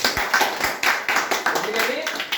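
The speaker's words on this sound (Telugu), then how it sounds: "ఒకసారి మనందరం చప్పట్లు కొట్టాలి" An audience claps in scattered, uneven bursts at an Ayurveda talk, while a voice speaks over the clapping.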